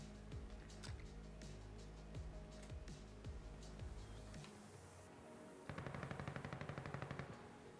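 Gunfire in Call of Duty Warzone: scattered single shots over a droning vehicle engine, then a rapid, evenly spaced burst of automatic fire near the end, at a fairly quiet level.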